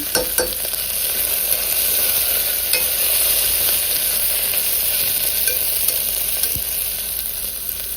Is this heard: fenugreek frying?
yes